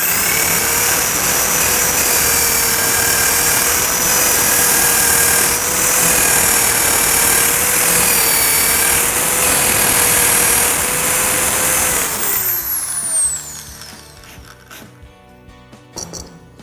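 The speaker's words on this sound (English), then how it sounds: "Now I have to make sure that I can countersink it." A power drill countersinking a drilled hole in a horn, a loud steady high-pitched whine held for about twelve seconds, then spinning down and fading to a quieter hum, close up with no talk.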